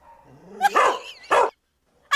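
Dogs barking inside a house, a few sharp close barks with some whimpering tones in between, separated by brief pauses, with no talking.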